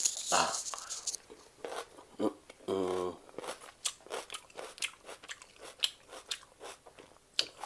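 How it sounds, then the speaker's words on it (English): Close, crisp bites and wet chewing on a piece of cooked onion, a loud bite near the start and a dense crunchy burst around the third second, then steady chewing crunches with brief speech-like sounds. "I don't want to waste the onion. Look at this bit. Really nice. I'm gonna eat this."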